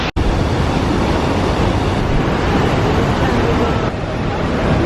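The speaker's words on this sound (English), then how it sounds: "I thought there'd be one waterfall, but there's like a lot." The waterfalls at Iguazu in Argentina roar as one loud, steady, unbroken wash of rushing water, with a short cut right at the start and no clear speech over it.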